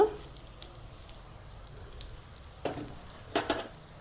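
Coriander seeds sizzle in hot oil in a pan on low heat for a Mandya-style bassaru, a soft steady frying hiss with a few sharper crackles and pops toward the end.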